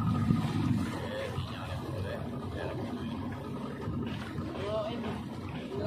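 A speedboat runs across the water, its low engine drone and hull rumble staying fairly faint and steady while people talk over it.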